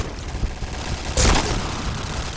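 Gunfire in the video game Point Blank: a dense, steady wash of game noise with one loud burst of shots in the middle, no talking.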